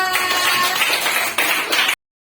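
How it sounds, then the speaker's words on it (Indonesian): A classroom group claps for group 3 in a loud, brisk burst of hands that dips briefly midway, swells again, then cuts off abruptly. "beri tepuk tangan kepada kelompok 3"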